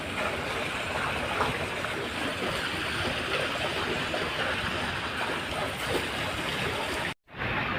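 Water rushes steadily into a pool vacuum hose during pool cleaning, a continuous, fairly loud hiss and gurgle that holds evenly before cutting off abruptly near the end.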